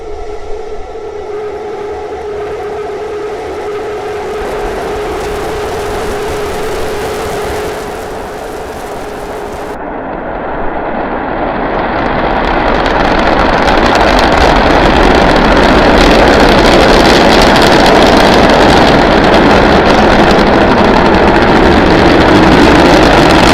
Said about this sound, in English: Starship climbing to 10-kilometer altitude.